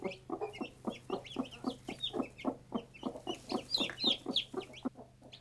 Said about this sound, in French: Quelques petits cris aigus annoncent enfin la sortie des poussins.